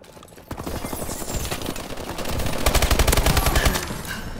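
Rapid bursts of automatic gunfire crackle in a multiplayer shooter video game, building to a dense, loud barrage of shots near the end.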